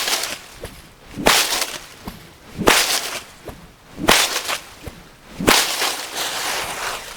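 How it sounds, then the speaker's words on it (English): A bull whip cracks four times in a steady, spaced rhythm, each sharp snap loud and close with a brief whooshing swing before it, outdoors around a horse being trained to stay calm on the trail. "So when I apply the bull whip also"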